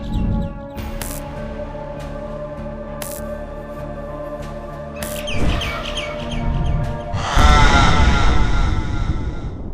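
Bird chirping inside the video game Garten of BanBan 6 comes as short, sharp tweets over a steady tonal game hum, followed by a louder burst of fluttery, noisy activity near the end.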